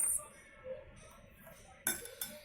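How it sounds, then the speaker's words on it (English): A spoon clinks against a glass of water while salt is stirred in, giving a few sharp, bright taps close by with a quiet stretch between them. "Mix it properly until the salt dissolves."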